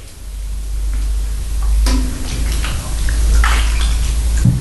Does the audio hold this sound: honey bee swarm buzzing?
no